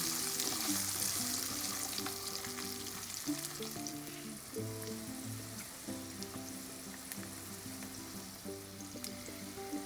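Garlic cloves sizzle quietly in a pan over a low flame, a soft continuous frying hiss beneath faint background music.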